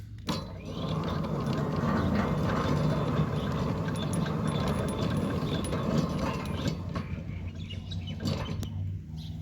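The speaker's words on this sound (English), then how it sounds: "One can hear the gate motor is running smoothly." A Centurion D5 Evo smart gate motor drives a gate, a steady mechanical whir with gear and ratchet clicking that holds for most of the stretch before easing off, close by with faint bird chirps behind and no talk.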